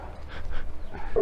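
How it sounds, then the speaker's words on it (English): Dog wearing a cone collar on a rural footpath gives a few faint, short barks and whimpers at a distance, thin and irregular with no voices. "I think I shall leave well alone with the mad rabid dog."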